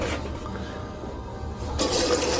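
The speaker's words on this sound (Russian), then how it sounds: "по звуку я слышу, что вода пошла" Purified water from a powerful stationary filter pours into a container indoors, a steady close rushing splash that grows louder and brighter near the end.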